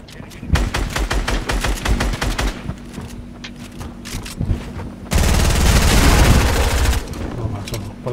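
Gunfire in a Fortnite match rattles out in rapid automatic bursts, loud and close, with a dense, sustained volley taking over midway. Players talk excitedly over the shooting.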